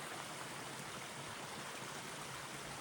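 A waterfall in Douthat State Park rushes in a steady, even wash of water, soft and continuous throughout with no voices.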